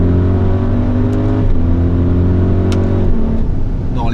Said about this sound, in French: Les passages de rapport sont très rapides.